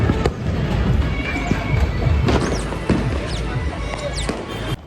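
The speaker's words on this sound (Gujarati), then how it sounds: "જ્યાં જોઉં ને ફટાકડા એટલા જ ફૂટે" Diwali firecrackers bursting around Upleta, a scattered series of sharp cracks and bangs, some near and some farther off, over a constant rumbling festive din.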